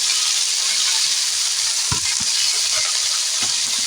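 Red amaranth greens and potatoes sautéing in a pan for lentil dal, a loud steady sizzle close up with a few sharp stirring knocks against the pan.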